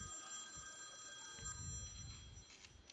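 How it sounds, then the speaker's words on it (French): A faint telephone ringing with a steady high electronic tone in a noisy background, muffled and distant. "Ah, téléphone."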